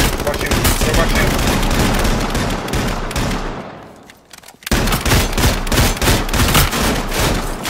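Light machine gun fire in a video game, loud sustained bursts of rapid automatic shots filling the scene, dropping off briefly midway before another long continuous burst resumes.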